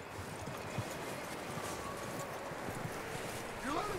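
Horse hooves clip-clop steadily in Red Dead Redemption 2, a soft continuous rhythm of footfalls on the ground running under constant speech and ambient game sound.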